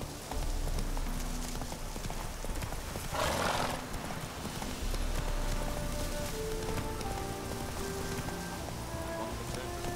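Horse hooves clip-clop steadily at a gallop in The Witcher 3, with occasional whinnies and a patter of rain in the background, over game music and ambience.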